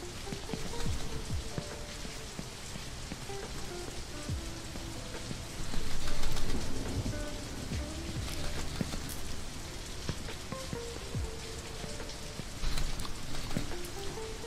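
Video game rain falls steadily on surfaces, a dense continuous patter with scattered distinct drops, swelling briefly louder a couple of times, with no voices over it.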